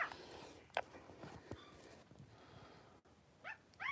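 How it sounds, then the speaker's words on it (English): A male dog barking indoors, with a few sharp, fairly quiet barks and yips spaced irregularly and a brief whimper, with no talking. "He's barking."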